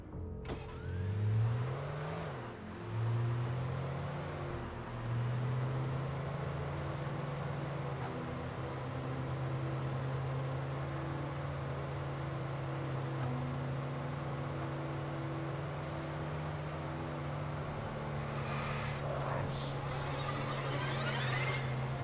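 A car in the Alan Wake video game drives along steadily with a sustained engine drone, revving up and shifting a few times early on, alone with no talk.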